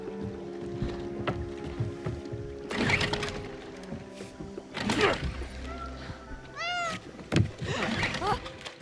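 A cat meows in the Indiana Jones and the Great Circle video game, with a few short rising and falling calls near the end over steady game ambience and background sounds.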